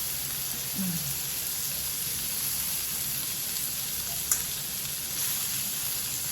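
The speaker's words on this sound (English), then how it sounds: "I'm going to add some lemon juice in the pan" Lemon juice hisses in a hot pan with rainbow trout on high heat, a steady, dense sizzle that holds throughout with one brief sharp crackle partway through.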